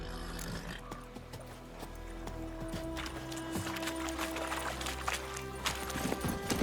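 Roach the horse's hooves clip-clop in The Witcher video game as a quiet, steady run of hoofbeats over a low background.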